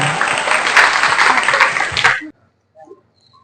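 Audience applause at a village women's program with games, dance and a ramp walk: dense, loud clapping for about two seconds, then stopping abruptly, with a faint voice after.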